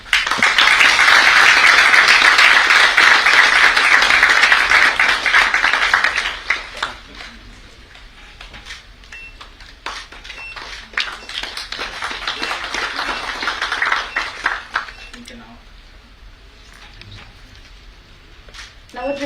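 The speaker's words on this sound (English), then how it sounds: "Ladies and gentlemen, huge round of applause." Conference attendees at a logistics conference in Goa give a loud, dense round of applause that lasts about six seconds, then thins into scattered claps that swell briefly again before fading.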